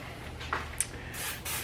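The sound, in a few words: spraying room fragrance spray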